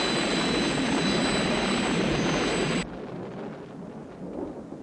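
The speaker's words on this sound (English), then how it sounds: "The storm seems to be getting worse." A worsening storm roars with heavy, thunderous broadband rumbling that suddenly drops to a softer, lingering rush of wind and noise.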